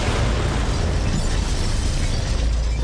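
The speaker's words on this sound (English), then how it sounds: "The explosion echoed through the forest" Bombs set during a heist in Borderlands 3 go off in a forest, producing a loud, sustained, rumbling blast that roars continuously throughout without letting up.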